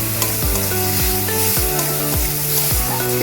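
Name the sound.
fish and mango curry sautéing in mustard oil with a little water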